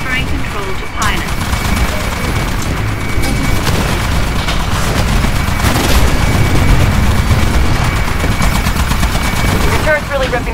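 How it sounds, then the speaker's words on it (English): An automated turret in the video game Titanfall fires nonstop in heavy machine-gun bursts, loud and close, mixed with booms and mechanical battlefield noise, with voices faintly heard beneath. "Your turret's really ripping up the IMC."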